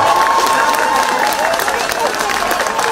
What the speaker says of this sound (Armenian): արժի ծափահարել